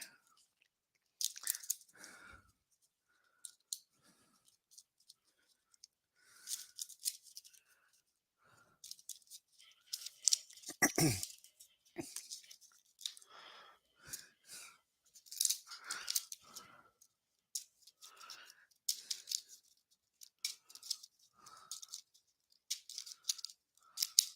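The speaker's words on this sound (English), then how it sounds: "We'll shuffle the drivers and put them in the bag" Paper slips with driver names shuffled in a bag, intermittent rustling and crinkling bursts separated by short quiet gaps, fairly close.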